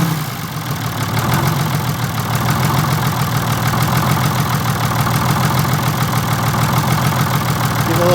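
A Detroit Diesel 6-71 engine idles in a 1947 Silversides bus that has governor and fuel linkage problems, making a loud, steady, close rumble with an even low chug that never lets up.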